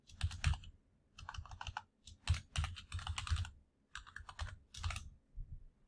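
Keys clatter on a computer keyboard while a password is typed, in quick close bursts separated by short pauses, quiet and with no voice.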